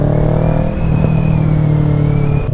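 A 2023 Kawasaki Ninja 650 sport bike with a Yoshimura exhaust runs close by, its parallel-twin engine giving a deep, steady, rumbling note held at a fairly even pitch, loud and alone.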